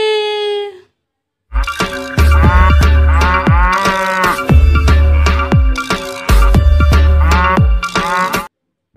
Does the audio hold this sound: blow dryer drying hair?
no